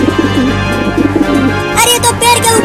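Cartoon pigeons coo over a steady low hum, followed by a brighter burst of fluttering wings taking off toward a tree near the end.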